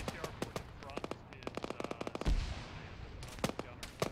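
Rapid automatic gunfire and single shots crack in an Arma 3 firefight, bursts repeating near and far with a heavier boom midway, while players talk over the radio.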